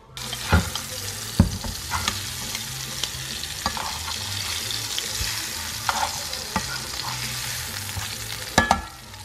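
Blackened mahi-mahi fillets in a hot oven pan keep up a continuous frying sizzle, with occasional sharp metallic clicks as tongs turn the fish.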